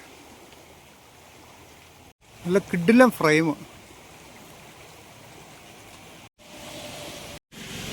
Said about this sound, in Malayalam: കൂട്ടാറിനെ ലക്ഷ്യമാക്കി പുഴ അങ്ങനെ ഒഴുകുകയാണ്